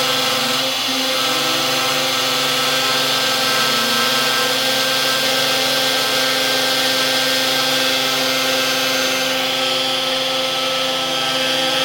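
A CNC machine carves a math equation, its stepper motors whining in a steady, loud mechanical drone with shifting pitch as the curves are cut, continuous and without speech.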